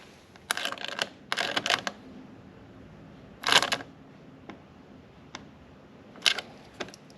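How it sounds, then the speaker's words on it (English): Bolts on the back of a lower knee wind deflector on a 2022 Honda Goldwing are tightened with a tool, giving close, sharp bursts of rapid clicking separated by pauses and a few single ticks. "now I can tighten down the two bolts on the back side of the"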